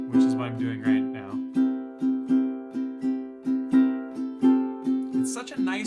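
Ukulele strummed with the thumb and index finger pads in a swung rhythm, bright ringing chords in an uneven long-short pattern, close and clear, with a voice speaking briefly over the start and end.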